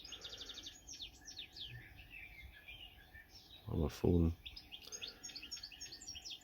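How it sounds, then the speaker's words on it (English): A goldfinch call from a bird call app plays through speakers: rapid, twittering chirps that repeat throughout. A person speaks briefly partway through, along with a short louder burst of sound. "I've just loaded up the RSPB bird call, and what I'm doing, I'm just going to play it through my speakers. So goldfinch"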